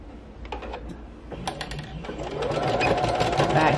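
A sewing machine stitches a fabric postcard, a close mechanical whirring and ticking that picks up speed and grows steadier and louder toward the end, with a voice audible beneath it.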